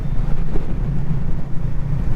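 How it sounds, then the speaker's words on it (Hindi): Strong wind buffets the microphone during a motorbike ride on a mountain road from Katra toward Jammu, a steady low roar that fills the whole stretch without letup. "अब हवा चल रही है बहुत ज़्यादा तेज़"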